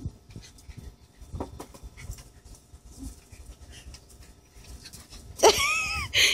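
A dog pants rapidly and steadily up close, ending in a loud whining burst.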